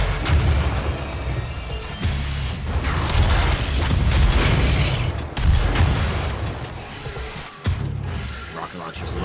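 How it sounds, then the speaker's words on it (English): Rocket launcher blasts in the DOOM video game, a run of heavy booming explosions and mechanical clatter, loud and dense, overlapping with game combat noise. "Rocket launcher's lovely."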